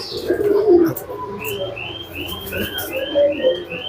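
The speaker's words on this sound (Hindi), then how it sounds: "ये हैं नस्ल बनाने वाले कबूतर" Kalsare breeding pigeons coo softly at close range, with low throaty calls early on and chirpy bird calls repeating through the rest, no talking.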